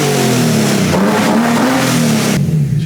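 An ITB-swapped BMW S52 engine in an E30 on a dyno, revving hard and loud, the pitch climbing and dipping across sustained pulls before abruptly dropping off near the end.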